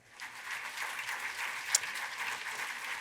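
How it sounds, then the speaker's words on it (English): Faint, steady audience applause at a science policy gala dinner, honouring partner organizations; even distant clapping from a banquet crowd with one sharp louder clap near the middle. "they deserve a big round of applause"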